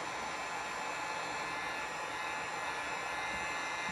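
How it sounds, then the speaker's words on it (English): A heat gun blows a steady, even whoosh of hot air to smooth epoxy on a tumbler, a continuous close hiss with no breaks and no talking. "Get my heat gun and then we'll smooth out this epoxy."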